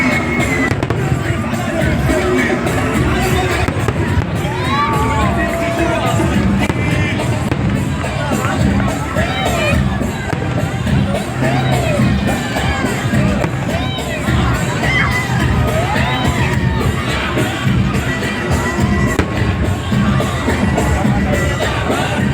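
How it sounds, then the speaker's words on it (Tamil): Fireworks display at Al Naseem Park in Muscat, Oman, during Muscat Nights, where steady booms and crackles mix into a loud, continuous roar of crowd noise, with children shouting and people cheering throughout. "கொஞ்ச நேரம் கழிச்சு இந்த ப்ளே ஏரியா சுற்றிட்டு இருக்கும்போதே ஃபயர் ஒர்க் ஃபுல்லாக ஸ்டார்ட் பண்ணிட்டாங்க"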